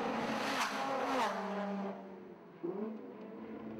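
Lotus Elise Trophy race cars at Silverstone scream past, with rising and falling engine notes from several cars and a gear change, heard fairly faintly and at a distance.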